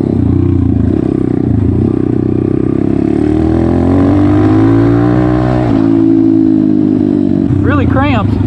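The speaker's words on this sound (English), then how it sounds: "I'm on the Orion RXB 190. I'm gonna give this thing a rip." Orion RXB 190 small dirt bike ridden on a mini motocross track at Village Creek MX, its engine loud and close, rising and falling through revs and gear changes, with a rider's voice over it.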